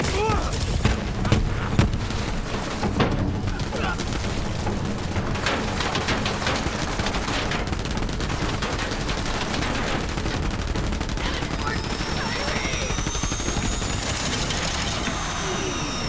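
Dense, continuous gunfire from guns in Borderlands 3, loud rapid shots and mechanical clatter running steadily throughout, with a player talking over the shooting.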